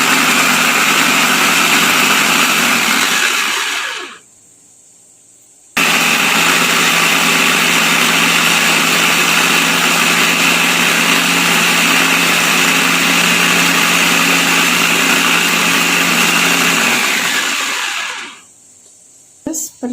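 A small electric blender or grinder whirs steadily and loudly, close up, as garlic is ground for Balinese sambal, running for about four seconds, stopping briefly, then running again for over ten seconds before winding down.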